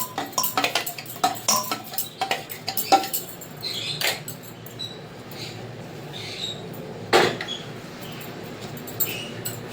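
Scraping and clinking against a metal bowl as ground spice paste is tipped in for chicken chaap, a series of sharp, close metallic taps and scrapes, busy at first and then sparser, with no talking.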